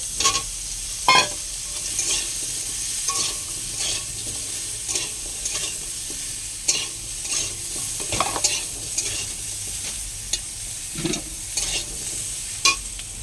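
Drumsticks and bottle gourd get stirred in a frying pan, a steady low sizzle punctuated by repeated close scraping and knocking strokes of a utensil against the pan.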